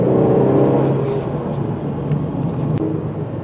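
A 2020 Mercedes-Benz C300 Cabriolet's four-cylinder turbo engine accelerates with a steady, close, low rumble that holds even throughout, with no voices.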